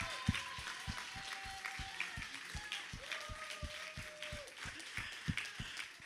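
Audience at a prayer gathering applauding together, a steady patter of claps with sharp individual hand strikes standing out, continuous for several seconds at moderate loudness, with a faint sustained tone beneath.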